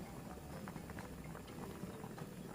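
Korean stew bubbling in a pot on the stove, a quiet continuous simmering patter with soft popping, steady and faint throughout.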